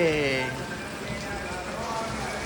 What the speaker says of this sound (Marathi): आणि बाहेर पाऊस पडते जाम